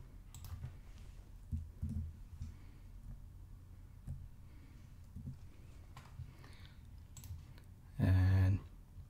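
Sparse, quiet clicks and taps from a computer keyboard and mouse, with a short louder burst of noise near the end.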